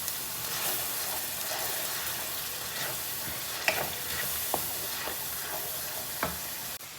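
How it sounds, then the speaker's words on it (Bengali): Yogurt is stirred into frying masala in a pan, giving a soft steady sizzle under repeated spoon scrapes and taps against the pot. "তারপর টক দইটাকেও আমি একসাথে ভালো করে মিক্সড করে নেব।"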